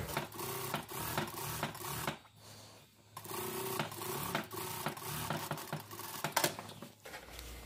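Sewing machine stitching seams on a one-piece dress, running in rapid bursts with short pauses between runs, close and steady, with no talk.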